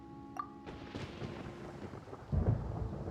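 Thunder in the video game Genshin Impact, a low rolling rumble beneath a rainy, stormy wash, with a short tonal chime early on and a heavier crack near the end.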